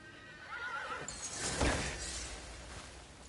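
A horse in the video game Crimson Desert lets out a loud, close whinny that rises and falls over a few seconds, alone with no talk.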